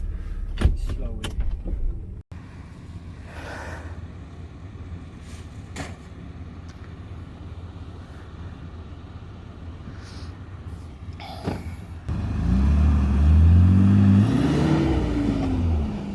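A car stuck in desert sand on an Empty Quarter expedition revs hard near the end as it tries to reverse free, a loud low engine roar rising in pitch after a stretch of quieter idling, with brief clicks and voices talking earlier.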